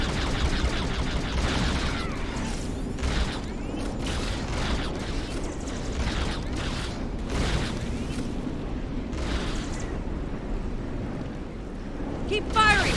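Sustained gunfire echoes through a battle in the Star Trek Online video game, with dense overlapping bursts and rattling shots over a constant loud rumble lasting the whole thirteen seconds.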